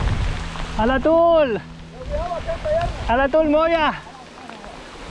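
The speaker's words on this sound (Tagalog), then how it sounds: "Lumakas na po mga idol ang rain." Rain falls steadily on a wet, muddy trail during a mountain bike ride, a constant hiss running beneath loud shouting voices.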